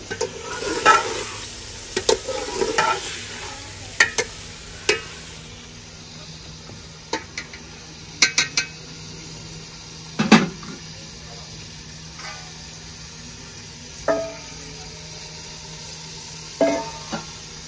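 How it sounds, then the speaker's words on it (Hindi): Chicken frying and sizzling in a pan at a village kitchen, with steady close sizzle and repeated sharp scraping stir strokes against the pan throughout. "चिकन मैंने ऐड कर दिया। तो अच्छे तरीके से फ्राई करते हैं।"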